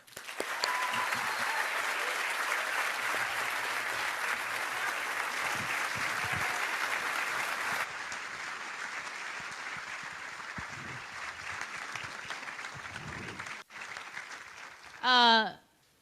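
An audience applauds steadily for about fifteen seconds as Hannah Pingree and David Hogg are welcomed to the stage at a leadership event. The clapping dips slightly halfway through, and a brief rising whistle-like sound comes at the end.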